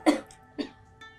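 A sick child with a cold coughs three times in close succession: two harsh, close coughs, then a softer, fainter one.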